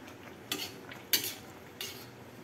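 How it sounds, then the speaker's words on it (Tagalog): Egg being stirred in a pan with sautéed bitter gourd (ampalaya), three separate scraping strokes of a utensil against the pan over a faint steady hiss, close by and without talk. "Tapos medyo haluin natin para maluto ang itlog."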